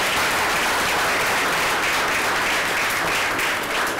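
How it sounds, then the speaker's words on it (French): An audience applauds a guest speaker at a talk on studying in the United States, with dense, continuous clapping that holds steady and loud for several seconds. "Merci encore, de l'applaudir très très très fort."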